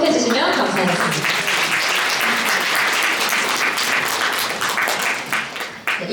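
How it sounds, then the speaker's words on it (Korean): Wedding guests in a hall give loud, sustained applause for the couple, a thick wall of clapping that holds strong and then begins to thin out toward the end, with a voice faintly heard within it. "다시 한번 큰 박수로 축복해 주시면 감사하겠습니다."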